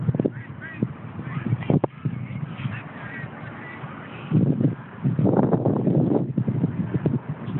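A flock of ducks at a park quacks and honks close by, with busy overlapping calls that grow louder and denser toward the end.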